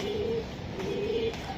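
Soft, low cooing from racing pigeons offered at a club sale, two or three drawn-out murmured calls over steady background noise, faint and close with no talking.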